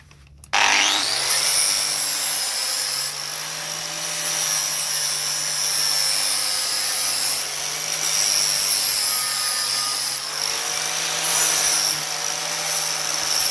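An angle grinder fitted with a flap disc bites into the rear sill of a Porsche 924. It starts abruptly into a loud, sustained high whine that rises and dips slightly as the load changes, with no voices.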